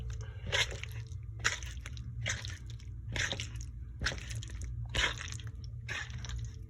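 Chicken stir-fry is tossed with honey barbecue sauce, giving a close, repeated run of wet squishing and crunchy stirring strokes about once a second over a low, steady background hum.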